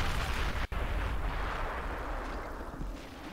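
Mortar fire in Men of War 2 comes as a dense, loud rolling roar of battlefield explosions, broken by a brief cutout and then continuing as steady heavy rumble.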